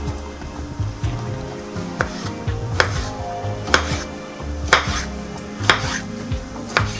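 A knife slices a tomato into thin slivers on a cutting board, giving a series of sharp, evenly spaced chops roughly once a second, close and moderately loud over a low background hum.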